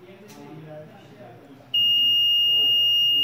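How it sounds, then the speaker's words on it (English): A buzzer on a student-built digital parking sensor circuit with a red LED sounds its distance alert. Faint room noise gives way partway through to a sudden, steady, piercing electronic tone that holds to the end. "red LED is giving light and buzzer is working"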